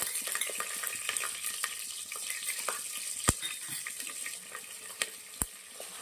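Ginger garlic paste fries in hot oil with mustard seeds and curry leaves in a pan for ladies finger sukka, a steady sizzle broken by sharp scrapes and clinks of stirring, two louder knocks standing out, with no talk.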